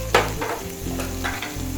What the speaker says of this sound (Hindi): फिर आप इसको अच्छे से भून लें।